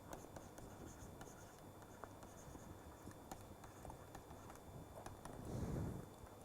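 Handwriting during a lecture on Kolmogorov length scales, an equation written out: faint, continuous scratchy stroke noises with small taps in an uneven rhythm, heard close over a low background hum and a brief soft thump near the end.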